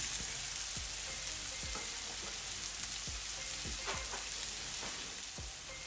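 Onions frying in a pan until translucent and starting to caramelize: a close, steady sizzle with scattered pops and crackles, no voices.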